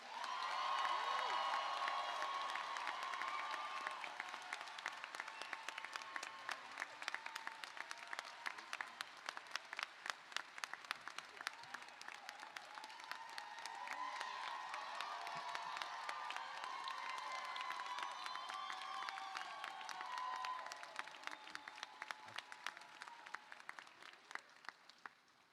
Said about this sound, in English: let us erupt this Performing Arts Center into a thunderous applause